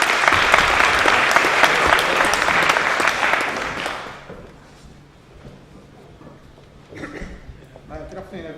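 Audience applause for a speaker at a business talk, dense steady clapping for about four seconds that then stops, followed by quieter room sounds and a voice beginning to speak.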